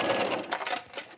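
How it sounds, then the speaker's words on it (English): An overlock serger set for a 3-thread overlock hems the edge of wrap-dress fabric, giving a short, steady mechanical whir with quick stitching rattles, close and fairly quiet, with no talking. "I have it set for a 3-thread overlock"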